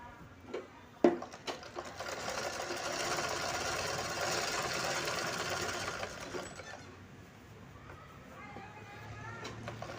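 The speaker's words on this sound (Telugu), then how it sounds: "ఇదే లెవెల్లో మనం స్టిచ్ చేసుకుంటూ రావాలి" A sewing machine runs steadily for several seconds while stitching a blouse hem, a close, continuous whirring hum that slows and stops, with brief clicks before it starts and quiet handling afterward.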